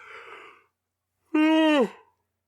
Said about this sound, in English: don't know why I'm yawning.